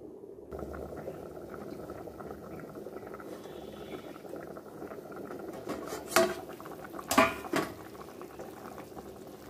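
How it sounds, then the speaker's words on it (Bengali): Fish curry broth boils in a covered pot with a steady, close bubbling hiss, broken by two brief metallic clinks near the end. "ঝোলটা ফুটতে লাগুক"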